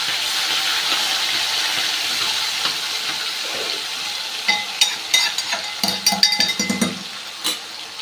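Prepared gravy poured into a pan of hot cumin and asafoetida tempering in a home kitchen: steady steamy hiss, then a burst of sizzling and stirring scrapes near the end, close by.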